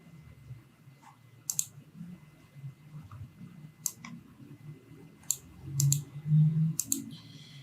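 A computer mouse clicks through a Zoom calendar, making a handful of quiet, sharp, irregularly spaced clicks over a faint low room murmur.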